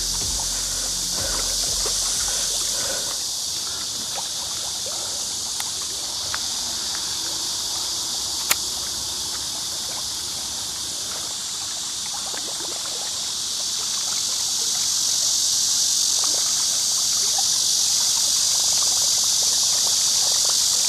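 River water rushing in a swirling current over a shallow stretch, a steady close hiss that swells slightly toward the end, with insects chirping faintly and no talking.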